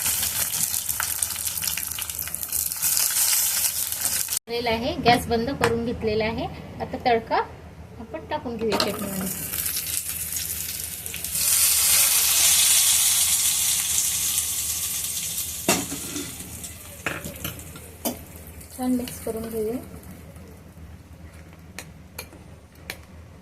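Asafoetida and dry red chillies crackle in hot oil, a bright sizzle that swells and fades, while a voice talks over much of it.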